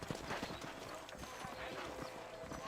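A horse gallops in Red Dead Redemption, with rapid rhythmic hoofbeats close by under a dense, noisy game mix.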